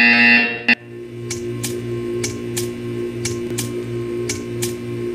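A buzzer in the Portal 2 video game sounds as a short, harsh harmonic buzz that cuts off with a sharp click. A steady electronic hum with evenly spaced ticks follows.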